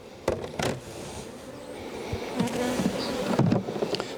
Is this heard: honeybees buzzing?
yes